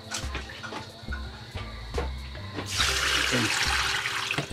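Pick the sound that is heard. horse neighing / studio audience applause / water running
water running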